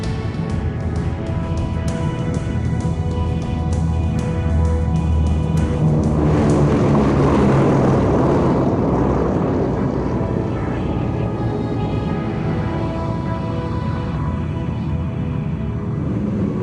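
A vintage WWII bomber with propeller engines flies past, producing a loud, steady droning roar with a low engine hum that swells slightly midway and continues without pause.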